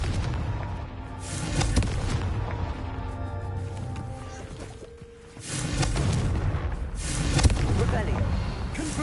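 Fiery Confringo spell blasts go off in Hogwarts Legacy on PlayStation 5, booming bursts with rumbling low-end impacts beneath a busy game soundscape, a voice talking between them.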